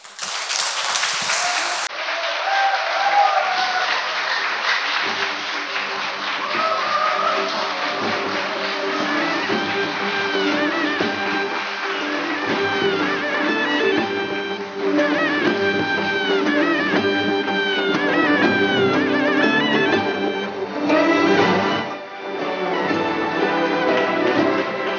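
An audience at an evening concert of poetry and music applauds through a curtain call, with steady clapping continuing under music and tonal sounds for the whole stretch and a brief dip near the end.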